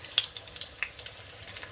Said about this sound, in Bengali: কিন্তু লাল করে ভাজে নিন পটলটা